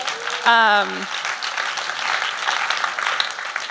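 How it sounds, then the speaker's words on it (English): An audience at a sustainability conference keynote breaks into applause, a broad, even patter of many hands that carries on steadily after a brief voiced whoop near the start. "yes, applause for Nico."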